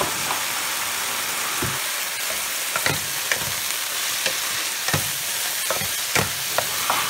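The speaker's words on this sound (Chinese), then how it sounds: "再煸炒2下" Beef and onion stir-frying in a hot wok, a steady loud sizzle with irregular scraping and clanking strokes of the spatula every second or so, close up with no talk.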